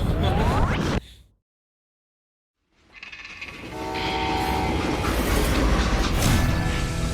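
A train in the Western shooter game Call of Juarez rumbles and clatters loudly, cuts to silence for a moment, then returns with a steady rolling roar and a sustained whistle-like tone.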